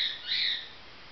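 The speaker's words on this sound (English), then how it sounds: "stupid bird" A bird gives a single drawn-out squawking call, moderately loud, with a little background noise around it.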